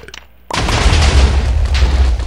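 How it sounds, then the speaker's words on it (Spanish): Bombs exploding in a Spanish-language minigame, a sudden heavy boom at half a second followed by a dense, continuous roar of blasts and rumble that stays loud to the end. "Vamos a lanzarle bombas."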